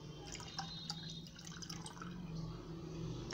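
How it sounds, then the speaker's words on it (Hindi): Leftover bottled water is poured into a shikanji lemonade drink, a steady trickling and splashing of liquid with small drips, close and fairly quiet with no talk. "अब हम हमारा बचा हुआ पानी भी बॉटल का इसमें ऐड कर देते हैं।"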